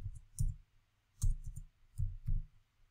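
Typing on a computer keyboard: quiet, close clusters of soft key clicks in short bursts with pauses between, the room otherwise still.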